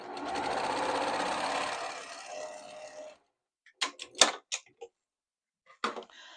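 A sewing machine runs steadily for about three seconds, stitching quilt scrap pieces together, then stops, followed by a few short knocks and clicks from handling fabric and machine parts.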